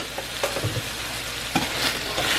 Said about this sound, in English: This is 1 organic tomato. We're going to toss that in. And this is a little handful of organic spinach. We're going to let that saute now.